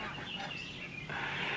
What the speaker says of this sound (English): The duck is obviously scared of this dog that they have